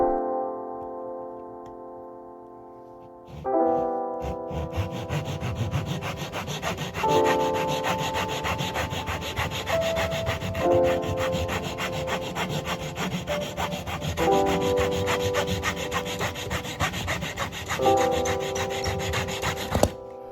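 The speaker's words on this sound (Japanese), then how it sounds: "切った箇所の研磨です。" Cut edges of wooden pieces being sanded by hand in steady back-and-forth rasping strokes, loud and close, with a faint tonal hum running underneath, with no talking.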